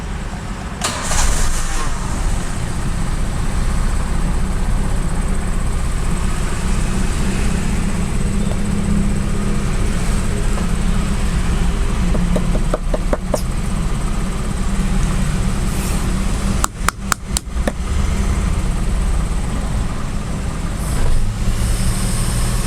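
A Toyota Avanza or Daihatsu Xenia engine idling with a loud, steady, close drone, briefly interrupted by a few quick clattering clicks near the start as it is restarted, then settling back to an even idle.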